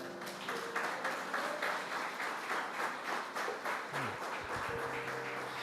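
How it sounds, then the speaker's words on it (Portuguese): A church congregation claps together in a rhythmic, evenly paced beat, a moderately loud patter of many hands with a soft tonal sound faintly underneath. "Então aplauda ao Senhor aí no seu lugar."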